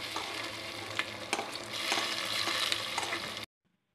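Hot oil tempering of dried red chillies and curry leaves poured into a taro leaf curry, giving a loud crackling sizzle with stirring clatter that stops abruptly into silence.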